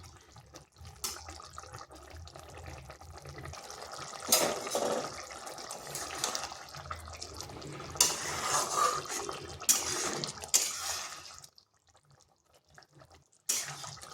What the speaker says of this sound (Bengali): এগুলো দেওয়ার পর আর ঢাকা দেবো নি, হাই আঁচে 3 থেকে 4 মিনিট একটু ফুটিয়ে নিচ্ছি।